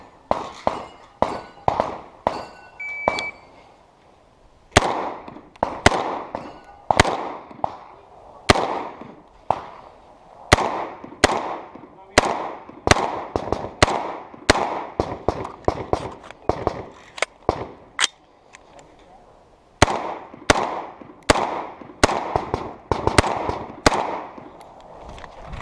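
Rapid gunfire at a 3-gun match stage, dozens of loud, sharp shots fired at steel targets in quick strings with brief pauses between bursts, close and echoing outdoors.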